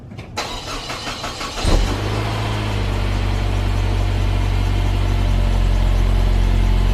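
A nearly stock 2004 Saab 9-5 Aero cold-starting: a brief starter crank, then the engine catches with a loud surge and settles into a steady, rumbling idle close by.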